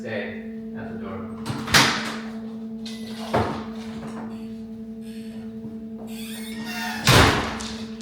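A door opening to let Walter, a golden retriever, outside during a training session, with three sharp thuds and clatters from the door spaced over several seconds against a steady background hum.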